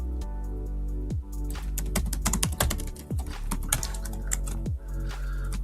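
Rapid keystrokes on a computer keyboard as a Laravel Artisan command is typed, steady clicking clatter with a few brief pauses, close and clear with no talking.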